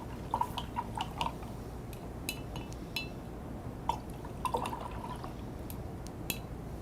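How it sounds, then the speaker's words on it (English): A paintbrush rinsed in a water cup while painting wood slice ornaments, with repeated light glassy clinks and small splashing drips under a steady background hiss. "I'm going to go ahead and rinse my brush"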